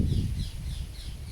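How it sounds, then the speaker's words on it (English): Crows caw in a slow series of hoarse calls, several repeating at a steady pace somewhat in the distance, over a heavy low rumble of background noise. "the birds are having their say too"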